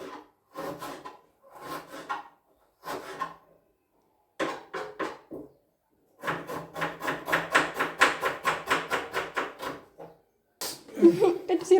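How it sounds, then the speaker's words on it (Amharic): Onions are chopped with a knife in a fast, steady run of crisp, close taps that fills the second half, after a stretch where a voice is speaking. "ሽንኩርት አከታተፍ ራሱ በደንብ ነው የምችለው።"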